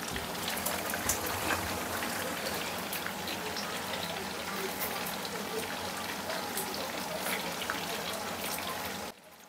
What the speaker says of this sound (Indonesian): Di kompor sebelah saya udah didihkan air ya teman-teman, udah mendidih.